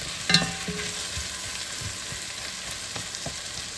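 Whole garlic cloves stirred in a pot of sweet potato and red curry soup base, giving a soft, steady sizzle with a few faint scrapes and clinks of a spoon against the pot, no talking.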